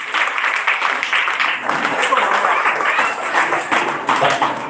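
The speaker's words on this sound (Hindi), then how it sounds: "इनके लिए तालियां हमारी" Audience applause at a motivational talk, loud and fairly continuous clapping with uneven swells and slight tapping texture.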